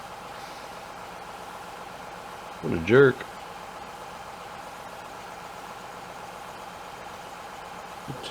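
A tractor engine left running in Farming Simulator 2017 idles at a steady low hum throughout, while a voice briefly speaks over it partway through.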